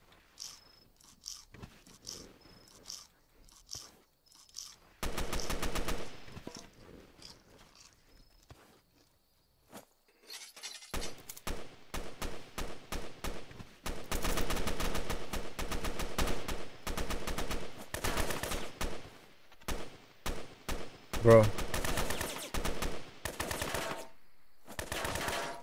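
Gunfire in the Roblox game Fallen Survival: scattered single shots at first, then long, dense bursts of rapid automatic fire, close and loud, with short pauses between volleys and occasional footsteps.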